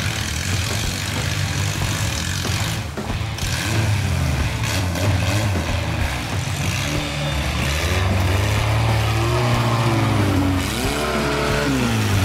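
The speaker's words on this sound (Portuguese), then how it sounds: "Os demais carros fizeram tranquila passagem." Off-road cars on a trail at the Trilhão Ametista do Sul 2021 event, their engines droning loudly and steadily, with pitch rising and revving as the vehicles pass close by.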